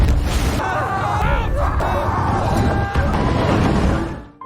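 A heavy explosion strikes a World War I battlefield: a loud, deep rumbling blast with crashing debris and noisy turbulence that sustains for several seconds before cutting off.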